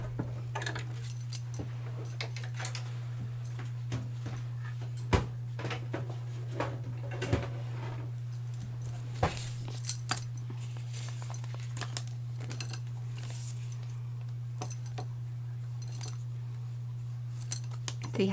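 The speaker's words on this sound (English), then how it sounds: "chopping it up like I just did into 8 pieces per piece of paper is really the way to go" Scissors snip paper into small pieces for holiday card parts, a string of sharp, quiet clicks and snips with occasional metallic taps over a steady low electrical hum.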